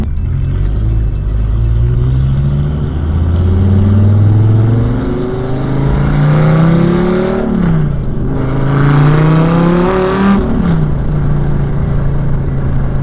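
A deep Dodge Viper V10 engine revs up and down several times, its exhaust note rising in pitch and falling back, loud and close with no talking.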